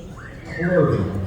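A horse at a River Valley Horsecamp colt starting competition gives a single loud, close whinny that rises and then falls away, heard over a constant low background.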